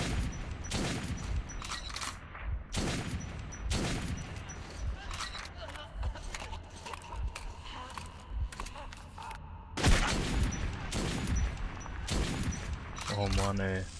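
Bursts of rapid AK assault rifle fire in Metro 2033, loud and close, with pauses between volleys and a voice talking in between.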